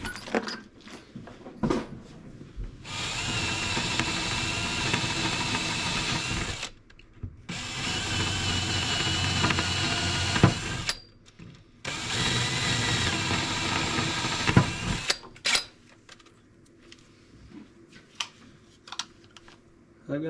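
A drill bit bores out the corners of an RC4WD flush-mount hoist mount, heard as two long, loud stretches of whirring drilling separated by short pauses, with small clicks and handling noises between them.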